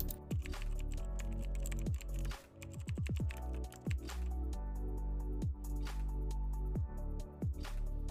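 Someone types a folder name on a computer keyboard, a steady run of close, crisp key clicks with short pauses over a low background hum.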